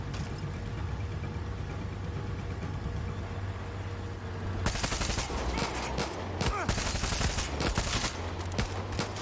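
Gunfire in the video game Far Cry 6 erupts midway in dense, rapid bursts of loud cracks, following a stretch of low rumbling engine-like ambience.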